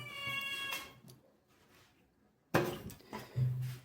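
A cat meows clearly at the start, then after a quiet gap comes a sharp knock or clatter followed by further short cat cries, all fairly near and with no talking.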